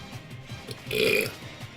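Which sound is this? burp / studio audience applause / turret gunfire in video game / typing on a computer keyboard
burp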